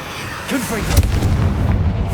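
A Confringo blasting curse in the video game Hogwarts Legacy, a loud, brief explosive burst followed by rumbling noise, with a voice over the top.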